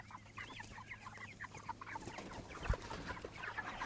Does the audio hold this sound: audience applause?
no